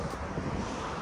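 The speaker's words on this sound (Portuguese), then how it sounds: "tá ventando muito aqui" Outdoors on a used Toyota car lot in the United States, a steady wind rushes against the microphone, loud and continuous across the short stretch.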